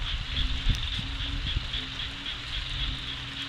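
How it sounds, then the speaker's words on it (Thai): Steady rain pattering outdoors in a garden, a soft continuous hiss with scattered drips, fairly faint and even throughout. "นี่ก็เป็นบรรยากาศสวนยายเบิ่มกับตาใจตอนเวลาฝนตกนะครับ"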